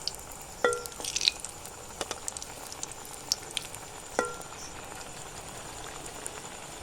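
Banana flower cutlets coated in biscuit crumbs fry one by one in oil in a wok, giving a soft steady sizzle broken by sharp pops and small clinks, heard close up with no talk.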